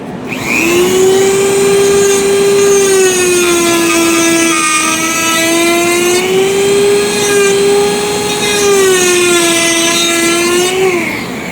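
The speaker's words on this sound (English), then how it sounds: "all you got to do is just take your bit and go across there, but don't forget to grind that" Rotary tool bit grinding across wood while carving a Christmas tree, a loud continuous high whine with rich harmonics that wavers gently in pitch as the bit moves, steady for the whole stretch with no talking.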